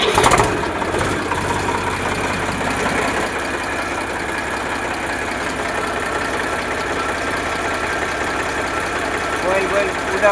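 An Eicher 368 tractor with a battery self-starter running at idle, a steady mid-pitched diesel chug that holds evenly throughout after a brief louder start.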